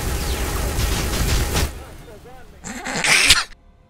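Gunfire in a shooter video game, a burst of rapid shots at the start and another loud shot later, with someone talking over the action.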